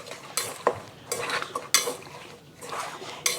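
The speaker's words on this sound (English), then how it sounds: "we're just gonna mix this up, let it marinate for about 1/2 hour." Pork ribs being mixed with marinade and 5-spice powder in a bowl, wet scraping and clinking of a utensil against the dish in uneven strokes, close and fairly loud.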